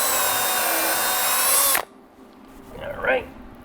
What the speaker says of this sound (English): Wood is so much easier to drill than steel is.